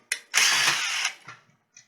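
A small drill bores a pilot hole into plastic during a wideband gauge install: a sharp click, then a close, loud, gritty whir lasting under a second that tapers into faint scraping and a final tick, with no talking.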